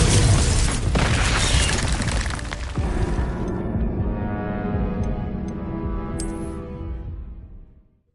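A Confringo fire spell explodes in Hogwarts Legacy, a loud broadband blast with a sharp second burst that rumbles on and fades slowly over several seconds, with no one speaking.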